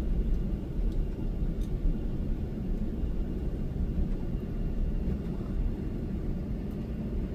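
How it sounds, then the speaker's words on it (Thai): An Asiana Airlines airliner taxis past a Cathay Pacific Boeing 777, heard from inside as a steady low engine rumble and drone with no voices over it. "กำลังแท็กซี่ผ่านเครื่องบิน Boeing 777ของสายการบินคาเทย์แปซิฟิกครับ"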